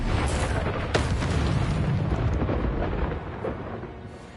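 A Confringo fire spell explodes in Hogwarts Legacy, a loud rumbling boom that rolls on for a few seconds before fading.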